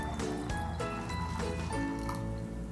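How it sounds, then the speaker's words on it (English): Water pours steadily into a jar of almonds, a bubbling, gurgling fill close by with no talk over it. "I'm just going to cover them with water."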